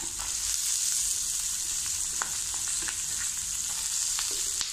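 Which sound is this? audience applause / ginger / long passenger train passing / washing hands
ginger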